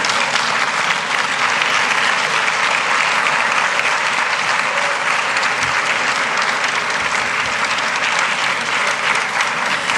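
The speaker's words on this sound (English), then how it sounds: "Can we rise and prepare a proper round of applause," A standing audience at a formal event gives a loud, dense round of applause that runs unbroken and even from start to finish, with no voices over it.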